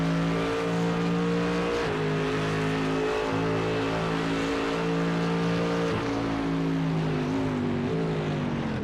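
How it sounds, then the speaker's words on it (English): GT3 race car engine at the Nürburgring in a racing video game, a loud steady drone with short dips as the driver briefly lifts off before braking, then picks back up. "It's a slight lift off, but if you're doing that into every braking zone, Joey, that is going to add up."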